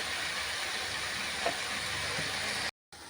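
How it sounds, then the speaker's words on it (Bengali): Potatoes and banana flower sizzling in hot oil in a wok, a steady broadband hiss running throughout, cut by a brief moment of silence near the end. "তেলটা গরম হয়ে গেছে আর আলুগুলো ঢেলে দিয়েছি"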